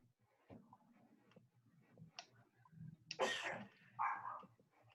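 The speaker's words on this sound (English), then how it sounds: "somebody's dog is trying to join the meeting." A dog barks somewhere in the background during an online council meeting, a few short separate barks of moderate loudness mixed with faint room noise and brief sounds from the call.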